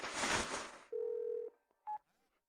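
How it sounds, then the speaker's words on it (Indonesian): Telephone number dialed on a keypad, a burst of rushing noise followed by one long steady DTMF tone and a shorter second beep, clear and close with no talking. "Aku akan telepon sekarang."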